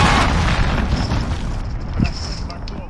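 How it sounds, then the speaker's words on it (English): A cruise missile explodes in Call of Duty: Modern Warfare gameplay, a dense rumbling blast with a second low boom near the end, loud and close under continuous battlefield noise. "Enemy cruise missile, take cover!"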